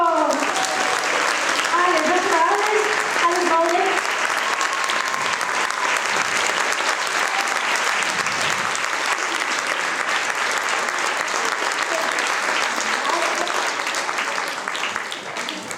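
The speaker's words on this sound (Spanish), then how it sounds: "¡Fuerte aplauso!" Sustained audience applause at a flamenco gala, a dense wash of clapping that holds steady for many seconds, with a voice briefly speaking over it near the start.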